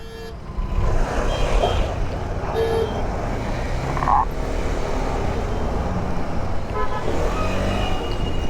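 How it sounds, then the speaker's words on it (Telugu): Car and truck horns honk repeatedly on a dusty, congested mountain road between Jammu and Srinagar, with short toots over a steady rumble of engines and traffic close by. "హారన్ కొడుతూ వెళ్ళాల్సి వస్తుంది"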